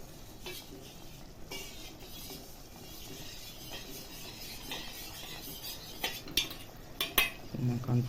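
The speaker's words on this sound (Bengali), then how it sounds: "কর্নফ্লাওয়ার গোলা জলটা ঢেলে দিচ্ছে।" Cornflour slurry poured into a pan of garlic chicken stirs up a steady sizzle and frying crackle, with metal spoon scrapes and clinks against the pan growing louder near the end.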